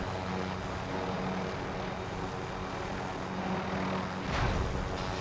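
Helicopter rotor and engine noise from the shooter game Call of Duty: Modern Warfare, a steady loud whirring drone throughout with a brief swell near the end, no talk over it.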